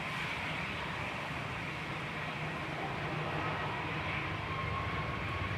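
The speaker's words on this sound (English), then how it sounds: "Ryanair on the roll now, heading off to Riga 9HVUT with flight 4096. It's a MAX 8." A Ryanair Boeing 737 MAX 8 jet on its takeoff roll at Manchester Airport gives a faint, distant, steady rumble with a hiss, no voices.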